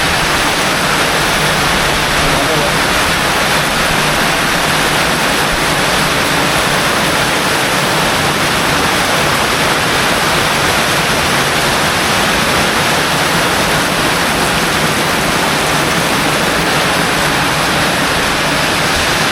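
Heavy rain pours down steadily amid rising floodwater, a dense, constant hiss with no breaks, loud and close throughout and no voices.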